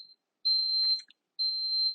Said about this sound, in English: Preheat buzzer.